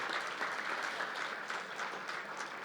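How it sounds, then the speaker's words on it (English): A festival audience at a literature event's closing debate applauds in a broad, sustained patter of many hands, moderately distant and fairly quiet. "So a big round of applause to all our wonderful speakers from across the world."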